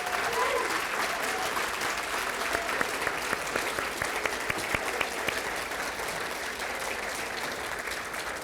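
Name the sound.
audience applause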